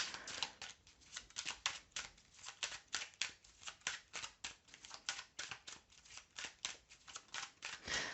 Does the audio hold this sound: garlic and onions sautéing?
no